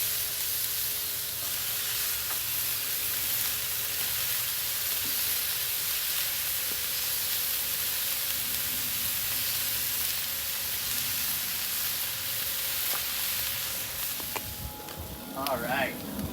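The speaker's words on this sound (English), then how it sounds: "we wanna take that tri-tip, we wanna get that thing nice and hot again" Tri-tip and bagels sizzle on a hot Blackstone flat-top griddle, a constant close hiss of frying that runs throughout, with faint scraping near the end and a voice occasionally heard over it.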